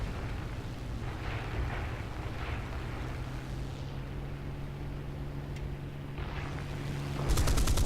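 Aircraft guns on a Mustang Mk Ia fighter in War Thunder roar in long continuous bursts over engine drone, ending in a louder, sharper rattling volley.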